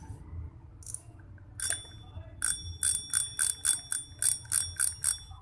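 A YOLO fishing reel, repaired after losing its click, gives a steady run of about ten sharp, evenly spaced metallic ticks, close and fairly loud, with no talk over them.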